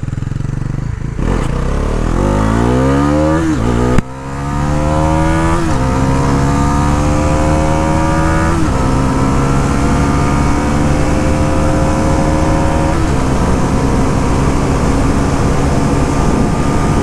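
Bajaj Pulsar NS400z motorcycle ridden and accelerating on a wet mountain road at Rongtong, its engine note climbing repeatedly through several gear changes, loud and close with steady wind roar throughout.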